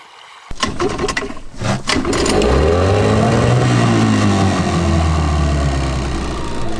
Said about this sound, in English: Been teaching Marie how to drive the dinghy today